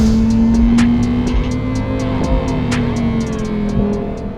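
A Lamborghini Huracan Tecnica drives on a Spanish highway, its engine droning steadily and loudly at speed, with faint rhythmic ticks over the constant hum.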